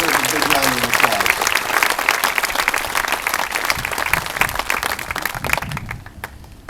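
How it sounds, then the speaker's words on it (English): Audience applause at a Relay For Life cancer fundraiser event in Olmsted County, a steady dense clapping crowd lasting about six seconds before tapering off, with a voice speaking faintly beneath it. "they deserve a big round of applause"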